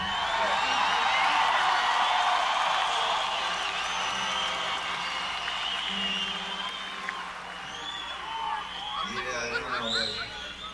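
Concert crowd at a show in Costa Mesa, California, applauding and cheering in a sustained, dense roar that slowly fades, with scattered shouts and whistles near the end.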